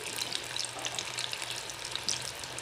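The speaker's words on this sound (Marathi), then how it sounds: "मंद आचारच भजे तळून घ्यायचे आहे" Crispy spinach palak bhaji fritters deep fry in oil over a low flame, a soft steady bubbling sizzle scattered with small bright pops, fairly quiet and continuous without any voices.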